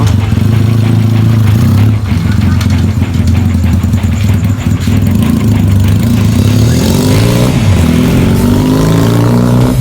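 A Lifan 250 motorcycle engine idles loudly and close, then revs up and falls back, its pitch rising and dropping in the later seconds.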